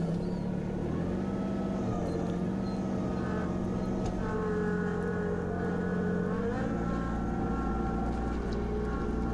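Tractor engine running at a steady idle on an off-grid building site, a constant close droning hum with a few slight shifts in pitch and no talk.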